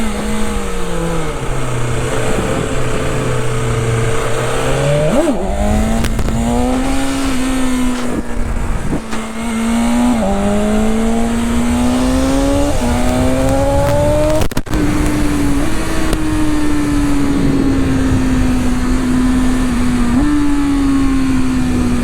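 A GT650 and an S1000RR motorcycle revving hard at night during a wheelie attempt: loud, continuous engine drone with repeated rising revs and brief dips, close and dominant throughout, no talking.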